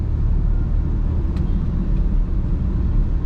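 A car being driven through busy Indian traffic while overtaking on the right, giving a continuous, even engine and road rumble that fills the cabin, with no talking.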